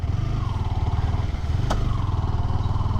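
Yamaha R15M 150cc motorcycle cruising steadily in sixth gear at low speed, a continuous engine drone with rhythmic low pulsing and wind rush, close and steady throughout.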